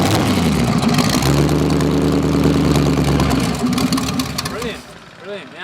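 The V8 engine of a licensed trike rumbles close and loud with a deep, steady idle, then revs and fades away. Voices talk over it near the end.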